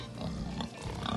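Hereford pigs give low grunts close by, a dense rumbling texture that runs throughout the short stretch with no speech over it.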